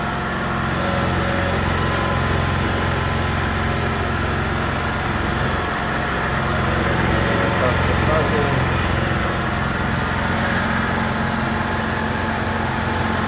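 Small portable generator engine running smoothly after a repair for surging and failing to drop revs, a steady even hum at constant speed, close by and without pauses.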